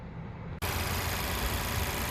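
A 1.5 liter Ecotec turbo four-cylinder in a 2020 Chevy Malibu RS runs at a steady idle, a close, even engine hum after a brief quiet start, with no talking.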